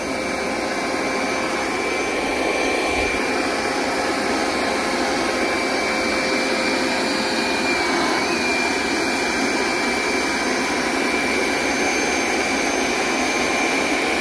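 Hoover SmartWash Pet Complete automatic carpet cleaner running through a drying pass, a steady loud motor whine with broadband airflow roar and a faint high tone, continuous with no talk.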